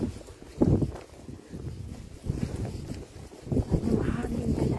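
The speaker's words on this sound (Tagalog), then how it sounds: "mahangin pala dito. Mahangin, mahagkot ito hangin." Gusty wind buffets the microphone in uneven rumbling bursts, rising and falling throughout.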